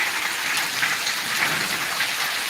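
Heavy hail and rain pelt down over open ground during a storm, a dense steady rattle of stones striking like gunfire, loud and continuous with no voices.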